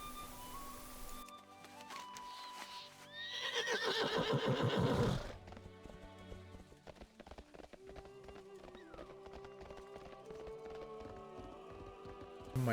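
A donkey in World of Warcraft gives a loud, drawn-out braying whinny with hooves clopping, rising to a peak mid-clip before fading under background game music and sound effects.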